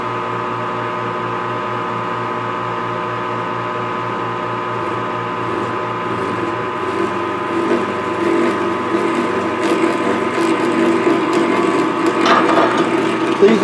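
A lathe cutoff tool parting small locks from stock for quarter 28 screws, a steady mechanical hum with a faint ticking rhythm that grows rougher and more scraping in the second half as the cut deepens.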